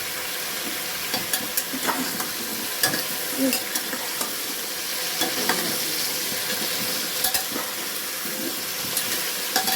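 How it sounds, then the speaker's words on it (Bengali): Mung dal and green peas fry in a wok for a spinach stem dish, with a steady broadband sizzle under repeated scraping stir strokes and clinks of a spatula, close and continuous. "এবার এটাকে ভালো করে একটু নেড়ে নেব। কড়াইশুঁটি আর মুগটা ভালো করে এর সাথে মিশিয়ে নিলাম।"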